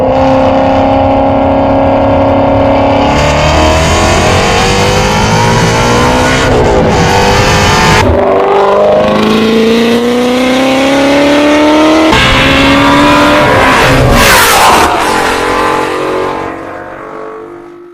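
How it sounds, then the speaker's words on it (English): A Ford Shelby Mustang GT350 engine revs loudly and close, rising and falling in repeated throttle blips for most of the time before fading near the end. "This is a Shelby Mustang."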